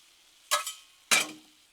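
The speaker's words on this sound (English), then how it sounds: "now we have the sausage on the griddle frying up" Two short bursts of hot sizzling as sausage meets a griddle, each flaring loud then fading, with quiet gaps between.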